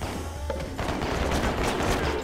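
Rapid burst of gunfire from shooting in the Boom Blox video game, a dense fusillade of crackling shots that fills the whole short moment, loud and close without speech.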